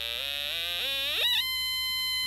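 An electronic buzzing tone that sweeps upward in pitch, climbing fast, then settling into a steady high-pitched whine.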